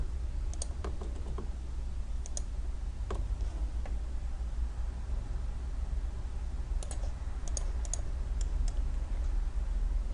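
Scattered sharp computer mouse clicks, some in quick double pairs, while drafting in CAD software, close and crisp over a steady low hum, with no talking.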